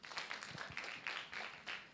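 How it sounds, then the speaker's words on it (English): A live audience claps during a launch event at the Parliament of Uganda, with several separate bursts of hand claps rising and falling across the moment, fairly faint and distant in the hall. "let's clap for them again."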